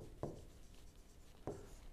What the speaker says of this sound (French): Donc, on va l'écrire.